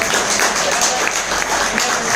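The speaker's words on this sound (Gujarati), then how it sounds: "જોરદાર તાળી સાથે વધાવી" Clapping from a gathered audience at a business meeting in a hotel hall, moderately loud and continuous, with a faint tone and some murmuring mixed in.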